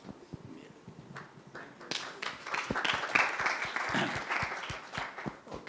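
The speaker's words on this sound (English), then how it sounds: "Please give them a big round of applause." An audience breaks into applause after a panel discussion; scattered claps build into a full, steady round of clapping that continues to the end.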